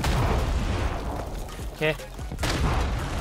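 A grenade blast in the Warzone video game, a short heavy boom in the middle of a loud, busy game mix with gunfire, while a player talks excitedly over it.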